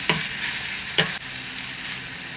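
Thai minced pork stir-fried with basil leaves and fish sauce in a pan, a loud steady sizzle broken by two sharp spatula scrapes, close and without speech.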